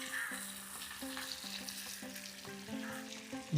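Chicken for chicken mandi frying in a pan on a low simmer while being stirred, a steady close sizzle broken by scraping spoon strokes and clinks, with no talking.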